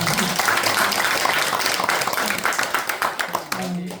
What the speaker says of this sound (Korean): 박수 좀 올려드리세요.